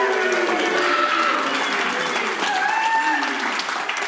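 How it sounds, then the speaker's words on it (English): Rapturous audience applause at a live Melbourne Aussie Rules footy show, a dense, steady wash of clapping from a crowd lasting throughout, with faint voices mixed in. "why don't you keep that little rapturous applause going for Sam Wiedemann and Bailey Fresk"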